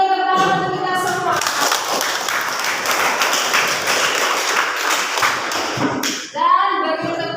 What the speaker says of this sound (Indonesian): Sekali lagi beri tepuk tangan untuk kita semua.